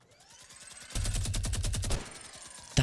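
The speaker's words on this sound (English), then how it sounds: "Minigun." A Fortnite minigun firing in-game, a rapid continuous burst of gunfire that spins up, blasts for about a second, then winds down, followed by a sharp thump.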